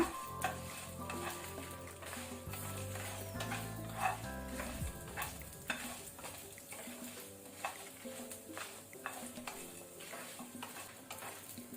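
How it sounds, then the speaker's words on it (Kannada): Dry red chillies, garlic and coriander seeds fry on a low flame for a dry prawn chutney powder, a soft steady sizzle with quiet spoon scrapes and stirring, a faint tonal backing early on, and no talking. "ಇದನ್ನು ಸಹ ನಾವು ಲೋ ಫ್ಲೇಮ್ ಅಲ್ಲಿ ಫ್ರೈ ಮಾಡ್ಕೊಳ್ಳುವ."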